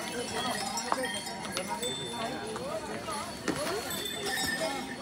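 A horse plods along a trail on the trek to Kedarnath, its hooves clopping in an uneven walking rhythm under continuous nearby talk and outdoor bustle.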